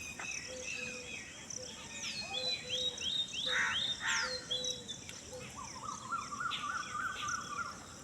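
Many birds, herons among them, call and chirp around water in an outdoor natural setting, with varied overlapping tweets and song phrases, some near and some farther off, over a steady insect-like background hum.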